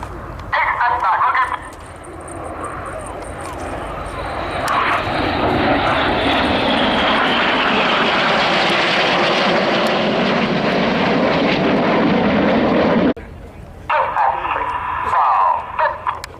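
Jet aircraft flying formation rolls at the Waddington air display give a loud, sustained engine roar that swells and holds before cutting off, with a commentator's voice talking over it at the start and end.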